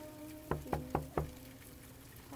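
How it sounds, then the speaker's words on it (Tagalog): Four soft, evenly spaced knocks sound on a bathroom door, quiet and fairly close against a faint background hum, then silence. "Gabi-gabi, eksaktong 2:00, may marahang pagkatok sa pintuan ng banyo."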